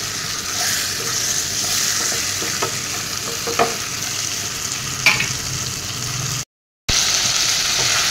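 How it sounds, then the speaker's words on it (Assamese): Steady sizzling of fish heads frying in a pan over low heat, with a few scraping stirs and a brief silent gap near the end. "এনেদৰে মাছৰ মূৰখিনি 1 মিনিটমান সময় এনেদৰে ভাজি থাকিম কম জুইতে"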